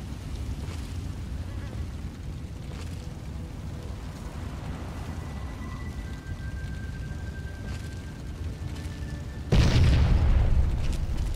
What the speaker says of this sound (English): There's stuff exploding elsewhere.